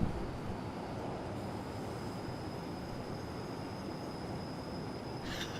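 Swiss train in Train Simulator Classic slowing under braking: a steady, loud low rumble of rolling stock with a faint thin squeal held high above it, continuous throughout and no voices.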